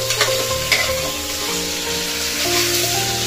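Sabzi browning in a pan at home, a steady close sizzle and crackle of frying vegetables with occasional stirring scrapes, continuous and alone without any talk.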